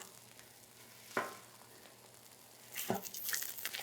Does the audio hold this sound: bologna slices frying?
yes